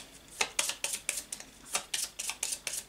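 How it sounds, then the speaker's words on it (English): A deck of game cards is shuffled up close, with a quick series of crisp riffling bursts repeating in an uneven rhythm, fairly faint and with no talking. "Run out of cards to draw, so I will shuffle"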